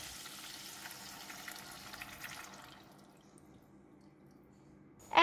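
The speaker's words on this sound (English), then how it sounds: "Next, add in all the waters" Water poured into a claypot of tofu and wood ear mushroom gives a steady, moderate splashing rush for about two and a half seconds before thinning to a quiet simmer, with a sharp knock at the very end.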